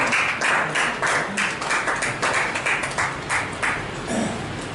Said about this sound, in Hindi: ज्ञानेंद्र वत्सल जी का एक तालियां बजा कर स्वागत है